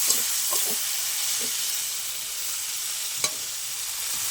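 Tomato and chili paste frying in a pan, a steady broad sizzle throughout with a few scattered scrapes of stirring and one sharp clack near the end; no talking.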